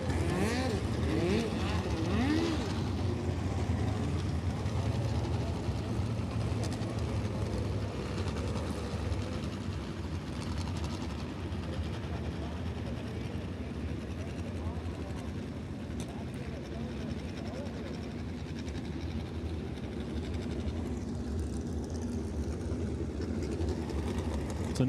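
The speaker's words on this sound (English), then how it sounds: "As a POWRi push truck makes its way out there" A POWRi push truck drives out onto the track at Belle-Clair Speedway during a midget racing event, a steady engine drone under announcer commentary and a dense outdoor crowd ambience.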